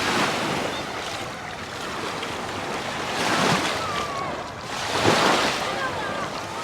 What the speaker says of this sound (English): It's got lots of beach here